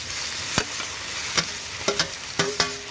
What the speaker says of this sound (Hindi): तो इसे भी अच्छे से तेल में भूनते हैं।